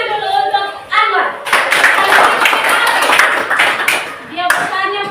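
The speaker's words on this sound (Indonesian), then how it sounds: "kasih tepuk tangan dulu untuk Anwar." An audience bursts into applause for a participant named Anwar at a live Q&A, a dense sustained clatter of many hands that swells after a spoken intro, with a voice resuming over the fading claps near the end.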